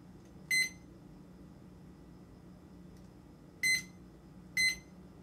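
Kitchen timer being set, giving three short, bright electronic beeps spaced a few seconds apart over a quiet room hum.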